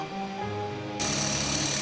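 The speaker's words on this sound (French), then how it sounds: "Le marteau-pique creuse les derniers trous pour les gaines techniques." A jackhammer digging the last holes for technical ducts on the ground floor of an old cantonal arsenal being converted into a media library, a steady loud hammering rattle that swells sharply halfway through and continues without voices.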